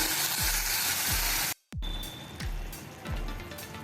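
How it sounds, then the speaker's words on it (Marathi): Tomato paste sautéing in a hot pan, a steady broadband sizzle with a brief cut in the middle, then continued frying with soft scraping stirs and low thumps as the mixture is turned. "आपला टोमॅटो परतून होत आहे"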